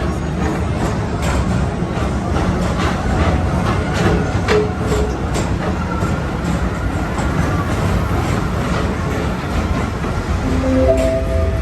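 PeopleMover ride vehicles at Walt Disney World's Tomorrowland gliding steadily along their track, a continuous loud rumbling hum with faint rhythmic clicks, heard alone without talk.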